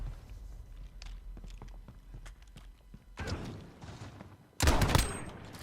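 Gunfire in a Modern Warfare 2v2 alpha match on PS4: light footsteps and scattered thumps lead into a short burst of shots, then a louder, close blast near the end.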